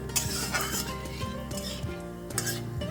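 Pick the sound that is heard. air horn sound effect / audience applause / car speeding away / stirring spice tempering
stirring spice tempering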